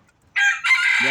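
A labuyo rooster, a native jungle fowl, gives a short, sharp crow close by, a brief two-part call lasting under a second with a quick drop at the end.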